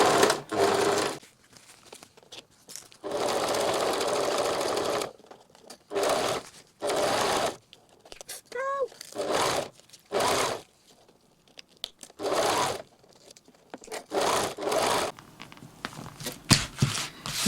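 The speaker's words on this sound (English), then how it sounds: "Place it under the sewing machine and simply sew it on." A sewing machine sews a zippered pocket in repeated bursts of rapid mechanical stitching, stopping and starting, with quiet handling sounds in the pauses.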